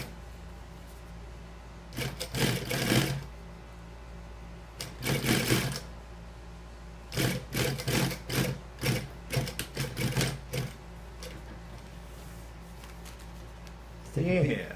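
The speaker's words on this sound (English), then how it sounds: "The lock stitch, so it doesn't come back out." A sewing machine runs a lock stitch in several short bursts of rapid mechanical whirring and chattering, close and loud, with quieter pauses between runs and a final burst at the end.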